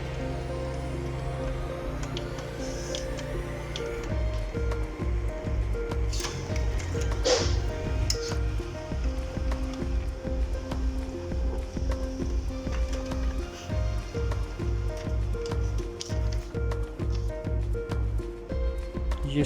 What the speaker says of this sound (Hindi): ये इसका टेस्ट पेज आ गया और इसकी आवाज़ बिल्कुल स्मूथ हो चुकी है।